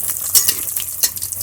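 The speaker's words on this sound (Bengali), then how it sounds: "তেল গরম হয়ে গেছে। এবার আমি একটা একটা করে ছেড়ে দেবো।" Potato lollipops drop one by one into hot oil in a kadai and set off a busy, crackling sizzle. Sharper spits and pops stand out over the steady frying hiss, close and fairly loud, with no talking.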